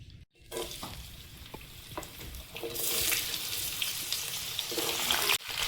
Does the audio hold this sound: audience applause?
no